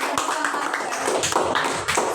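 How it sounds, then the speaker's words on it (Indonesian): Classroom applause for the first group of students, a short burst of uneven clapping with sharp taps over a noisy room, with some voices mixed in. "tepuk tangan untuk kelompok 1 dulu"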